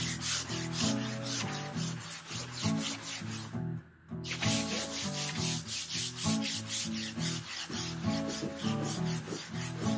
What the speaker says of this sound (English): I'll get the electric sander out on the front of this one.